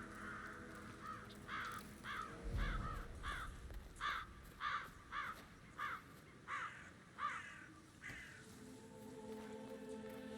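Crows cawing in the video game Hitman, a series of about a dozen harsh, evenly spaced caws over a faint ambient background, with a low thump near the start.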